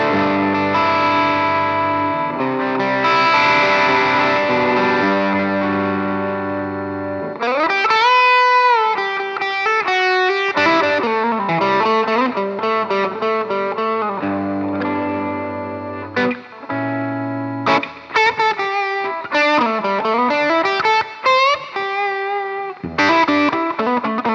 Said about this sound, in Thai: ถ้าผมลองลดวอลุ่มที่กีตาร์นะครับเพื่อเล่นเสียงให้มันโลเกนนะครับ